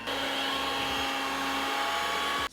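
An electric mixer whirs steadily and loudly, beating peanut butter cookie batter as dry ingredients are worked into the wet, a continuous motor drone with faint beater scraping throughout.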